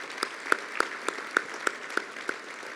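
Steady, evenly spaced handclaps ring out in a regular rhythm, sounding like a small audience applauding with no voices, at a chamber of commerce annual dinner.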